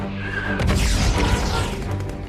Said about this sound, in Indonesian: Ledakan demi ledakan terus dilancarkan oleh kelompok militan